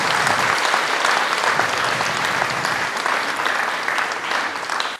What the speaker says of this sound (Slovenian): En velik aplavz najprej za njih.